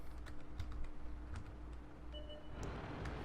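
Fingers tap quickly on a computer keyboard, a run of uneven clicks close up over a low background hum, then the keystrokes thin out near the end.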